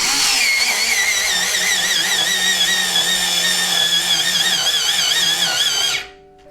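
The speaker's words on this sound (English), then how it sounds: "let's put one in there and see what it does" A CNASA electric pencil sharpener whirs loudly and steadily for several seconds with a wavering grinding tone while sharpening a pencil, then cuts off abruptly at its auto stop.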